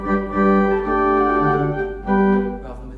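Church organ at St. Peter & St. Paul's, Tasley, played with a principal and stopped diapason registration: sustained chords held alone, a steady full tone with a brief pause midway before the chord resumes.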